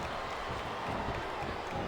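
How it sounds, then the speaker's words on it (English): A wrestling arena crowd in the Smackdown vs Raw 2008 video game, Carlito versus Shad, a constant dense roar of cheering and applause filling the space without a break. "I think these superstars are getting some feedback from the crowd, JR."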